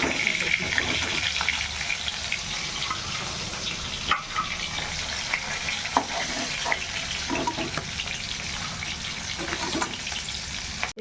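Black cumin seeds sizzling in hot oil left over from frying fish, a steady crackling fry noise with occasional stirring clatter, close by and continuous throughout.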